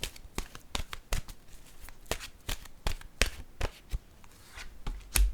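Crisp papery snaps and flicks as cards are handled and drawn from a deck, a quick irregular series of close, light clicks over a quiet background.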